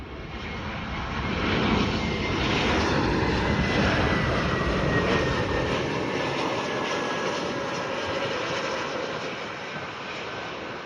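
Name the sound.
United Airlines Airbus A321 jet landing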